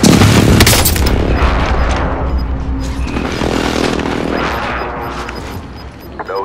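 Air strike explosions in the Call of Duty Warzone video game: a loud, dense opening blast rolls into a continuous rumbling barrage of booms and crackling debris that holds steady and slowly thins out.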